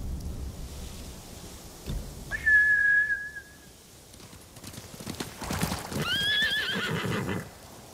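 Samurai horses in the video game Ghost of Tsushima, hooves clattering at a gallop with two loud, shrill neighs rising over the thuds, one early and one near the end, against a rumbling background.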